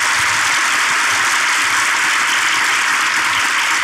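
Dense, steady applause from a packed audience at the opening of a live relationship-quiz show in Ankara, a continuous wash of clapping with no gaps for about four seconds and no voices heard above it.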